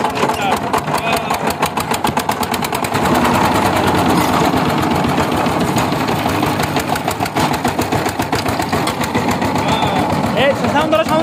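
A diesel engine rattles steadily with a fast, even ticking knock, loud and close the whole way through, while people talk over it.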